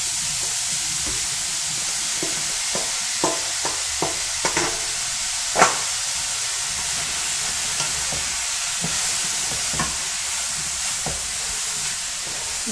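Chicken gizzards and onion sizzle loudly in a hot pan for Mexican-style mollejas, a constant close frying hiss broken by occasional scraping taps as they are stirred.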